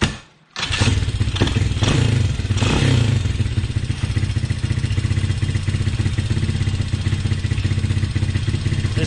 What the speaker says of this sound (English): This is idling pretty good.